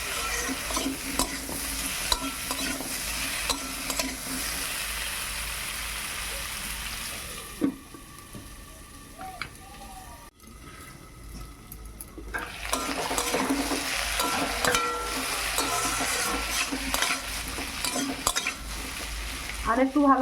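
Taro frying and being stirred in a pan for lau data chorchori, with continuous sizzling and scraping that briefly drops to a quieter sizzle midway before picking up again.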